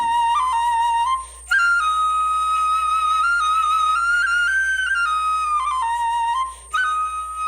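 A sogeum, a small Korean bamboo flute, plays a clear, high, breathy melody of sustained notes with short pauses between phrases.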